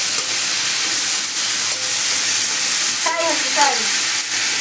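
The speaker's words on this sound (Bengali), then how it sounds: "ফ্রাই হচ্ছে হাই ফ্লেমে।" Green chillies and tomato fry in oil over a high flame, a loud continuous sizzle with intermittent stirring, and brief voices come through midway under the hiss.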